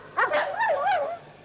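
A dog giving a drawn-out, wavering yelp that slides up and down in pitch like a whine-howl, clear and fairly close, heard alone for about a second.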